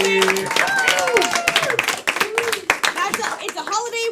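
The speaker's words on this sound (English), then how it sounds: "Hey, give it up for your players one more time, everybody." A live event crowd clapping and cheering for the players, a dense wash of applause mixed with an announcer's amplified voice talking over it throughout.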